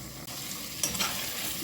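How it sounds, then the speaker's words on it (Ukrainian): Steady sizzling of flour frying in a hot pan, a soft continuous fry with light scraping of a spoon, close and moderately loud. "Смажу приблизно одну хвилинку щоб борошно трошки було просмажене"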